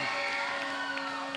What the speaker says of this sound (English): the crowd is loving him tonight